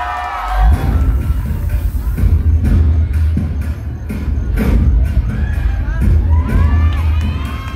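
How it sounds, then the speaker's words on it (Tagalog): A loud crowd at an LGBTQ+ pride night show in Cabanatuan erupts in cheering, shouts and whoops with clapping, a sustained roar of many voices close by. "Baka pwede makahingi ng palapakan na kasamang hiyawan."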